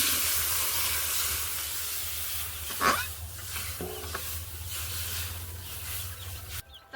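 Water hitting a hot pot for a fish curry spiced with salt, turmeric and chilli powder gives a steady, fairly loud sizzling hiss, with a sharper burst near the middle and a final clatter.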